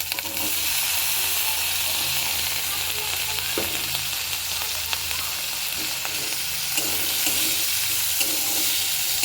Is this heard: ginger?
yes